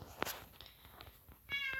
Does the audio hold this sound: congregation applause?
no